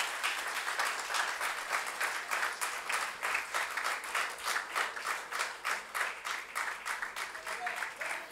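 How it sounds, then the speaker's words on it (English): At a Mumbai book launch for Asha Parekh's autobiography, an audience claps steadily throughout, a dense, even wash of hand-claps with a regular rhythmic pulse and faint voices underneath. "A big round of applause"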